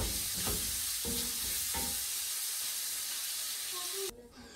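A wedge of butter melting in a hot pan for an aubergine and chickpea bhuna, a steady loud sizzle with a few spoon scrapes and taps from stirring, close up, dropping off suddenly near the end.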